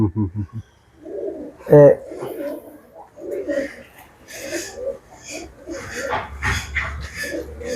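Racing pigeons in a prize-winning loft coo softly and repeatedly close by, with a person talking over the birds throughout.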